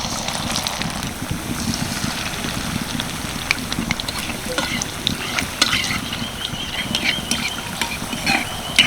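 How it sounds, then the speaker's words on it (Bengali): Battered, stuffed pumpkin leaf rolls fry in hot oil, giving a steady, dense sizzle with scattered crackles and pops, close and fairly loud, with no voices over it. "এবার এটা তেলের মধ্যে দিয়ে দেবো পাশে আরও একটা ছেড়ে দিচ্ছি"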